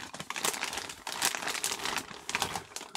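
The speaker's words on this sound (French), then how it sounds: "le paquet est scellé, donc on va l'ouvrir un petit peu" Sealed plastic packaging of a Roche P10W EVO2 RC car kit being opened, loud close crinkling and crumpling in several bursts over a few seconds.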